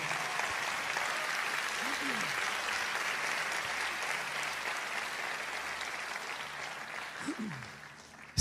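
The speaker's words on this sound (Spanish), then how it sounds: "Vamos, dale un aplauso al Señor." A church congregation applauds in praise to God, giving a sustained, moderately loud wash of clapping that fades slightly near the end, with a couple of brief vocal whoops rising above it.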